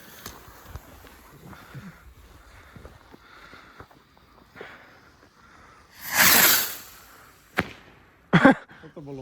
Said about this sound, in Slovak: T2 raketka, nec 20 gramov